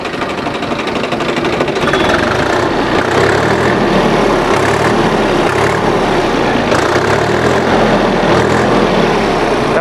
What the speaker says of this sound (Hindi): देख सकते हैं दोस्तों हमारा ट्रैक्टर अभी स्टार्ट हो चुका है।